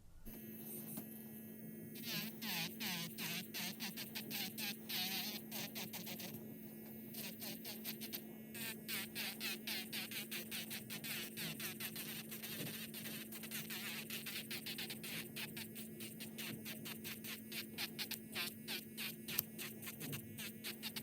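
An electric manicure machine cleans fingernails, running as a steady close buzzing hum with rapid scratchy grinding pulses throughout, loud and continuous without pause.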